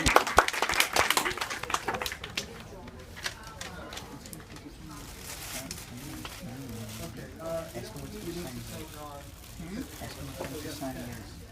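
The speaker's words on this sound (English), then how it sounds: "Everyone, a round of applause for the lovely Courtney" An audience breaks into applause in a room for a comic book writer and artist interview, loud and dense at first, then thinning into scattered claps as people start talking over it.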